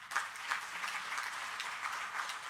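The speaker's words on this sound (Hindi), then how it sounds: "जोरदार तालियां।" Applause from the audience at a public health ceremony in Delhi, the opening of new Ayushman Arogya Mandir clinics, a steady dense wash of clapping held at an even level throughout, with no voices over it.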